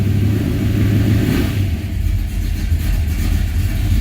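A 1978 Ford Courier engine runs steadily after a timing adjustment, a loud close rumble that holds throughout with a slight rise in revs near the start, no talk over it.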